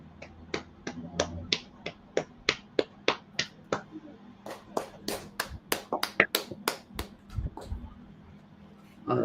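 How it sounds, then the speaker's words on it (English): A small group claps along in a steady rhythm at the start of a church service, about a dozen separate sharp claps that get louder and faster near the end, with a faint murmur of voices underneath. "Clap it up."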